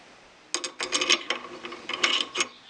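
A bushing being fitted onto a Rochester Quadrajet carburetor base plate gives a close run of small metallic clicks, scrapes and taps in irregular bursts, with no talking.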